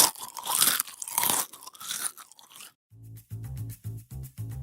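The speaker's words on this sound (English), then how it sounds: "nothing quite like the unmistakable, soul satisfying crunch of a potato chip" Loud, close crunching of potato chips being bitten and chewed, several crisp bursts in quick succession, then giving way to a short stretch of rhythmic music.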